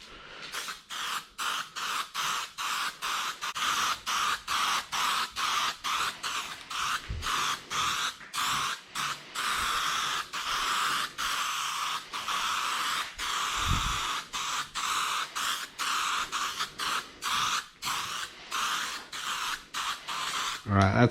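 Spray paint hissing in repeated short bursts onto a car's rear diffuser during a second coat, steady and fairly close, with brief pauses between passes.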